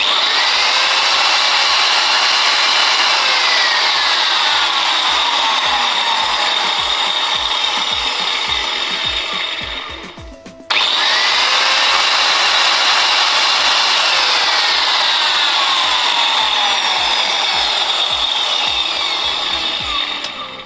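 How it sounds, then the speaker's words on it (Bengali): An angle grinder fitted with freshly replaced carbon brushes runs at a loud, steady high-pitched whine. It cuts out briefly near the midpoint, then spins straight back up to full speed. "এবার যদি আমি মেশিনটা সিম্পলিভাবে অন করি, এক হাতে শক্ত করে ধরে আমি অন করব।"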